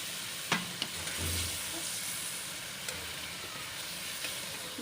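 Chicken frying in hot oil for homemade chicken karela, a soft steady sizzle with a couple of faint utensil clicks, quiet and without speech.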